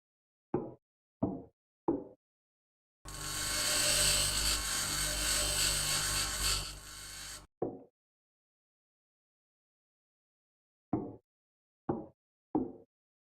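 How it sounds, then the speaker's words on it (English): A handheld grinder in the video game Occupy Mars grinds down fixtures on a building's interior wall, giving one loud, continuous burst of roughly four seconds between short, sharp clicks. "Some of the stuff on the walls inside the building, you can grind down some of the stuff."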